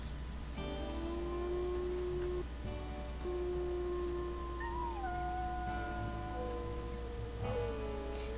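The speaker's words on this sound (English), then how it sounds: "doing a quick howl wouldn't hurt" In the video game WolfQuest, a wolf howls in long, sustained, wavering tones, several overlapping howls rising and falling over a steady ambient hum, clear and close.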